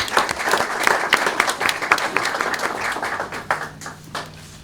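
An audience at a small business pitch competition claps in a quick round of applause, loud and dense at first, then thinning out and tapering toward the end.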